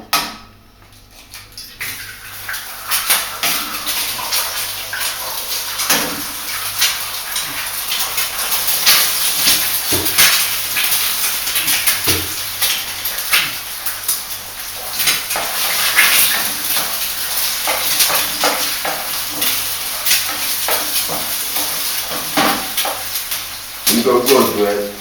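Egg fried rice frying in a pan, with a steady crackling sizzle throughout, broken by clinks and scrapes of utensils against the pan and a few louder knocks.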